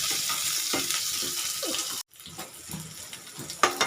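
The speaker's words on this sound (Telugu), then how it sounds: "ఆనియన్ కూడా మంచిగా ఫ్రై అయిపోయింది." Onions fry in a pan for an egg and gongura curry, giving a steady close hiss and sizzle with light stirring clicks, broken by a brief gap midway.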